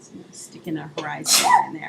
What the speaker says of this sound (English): That was a cute little sneeze.